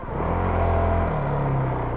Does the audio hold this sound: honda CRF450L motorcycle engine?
yes